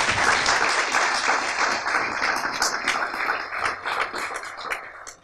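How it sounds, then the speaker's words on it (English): A round of applause from the audience at a school graduation ceremony for graduating students, dense and steady throughout, fairly loud and close, with no talking over it. "a round of applause for our students"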